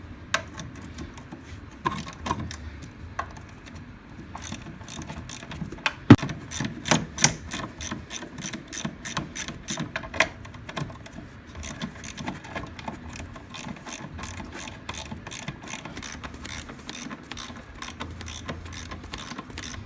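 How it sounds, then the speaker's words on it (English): Rapid ratcheting clicks from a ratchet wrench backing out half-inch bolts on the chain case of a Polaris Ultra 680 snowmobile, steady close-up bursts with occasional knocks. "we're gonna go ahead and remove those 1/2 inch bolts."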